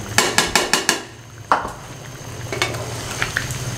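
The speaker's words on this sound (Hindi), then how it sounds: "ये तकरीबन 150 ग्राम घी है, शामिल कर दें, और इसको अच्छे तरीके से 4 से 5 मिनट भुनाई कर लें" Chicken karahi frying in about 150 grams of ghee, a soft sizzle under a run of sharp metal scraping strokes from stirring in the pan, with scattered clinks continuing afterward.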